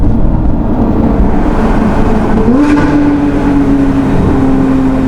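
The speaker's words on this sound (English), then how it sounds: "Oh, I love those upshifts." A Porsche GT car engine drones loudly, then shifts up with a quick jump in pitch and settles into a steady hum.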